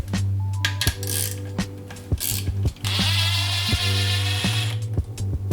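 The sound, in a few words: ratchet removing 10mm bolts on Mazdaspeed 3 transmission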